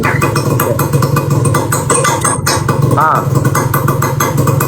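A Yamaha RXZ motorcycle engine runs loudly and continuously up close, with a throbbing, rattling idle and a brief rev in the middle.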